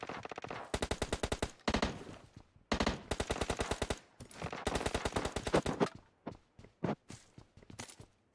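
Rapid automatic gunfire in the mobile battle royale game PUBG Mobile, several long, loud bursts of rattling shots separated by brief pauses, giving way to scattered single shots and short volleys near the end.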